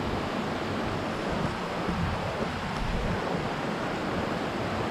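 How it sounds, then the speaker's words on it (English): A broad, steady rush of river water flowing toward the head of a waterfall fills the scene, a constant roar at even loudness with no voices. "this awesome, beautiful river that heads to the falls"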